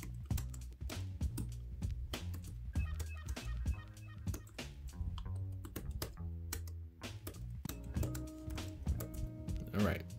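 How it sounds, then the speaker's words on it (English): Rapid clicking keystrokes on a Bluetooth keyboard paired with an iPad Pro 11, close and busy, with a voice talking over the typing. "All right, so typing is still working."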